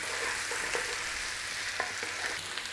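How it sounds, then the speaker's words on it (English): Steady, bright sizzle of mushrooms browning in butter in a single pan, with a few soft stirring knocks and no talking. "Brown off all the mushrooms in there."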